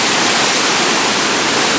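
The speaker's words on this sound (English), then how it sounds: "look at all that water that's coming down there" Niagara Falls pours down in a dense, steady roar, loud and close, a continuous wash of crashing water with no voices.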